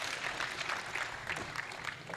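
An audience at a space expo and conference in Kenya claps in a faint, continuous patter of many hands, with no one speaking over it.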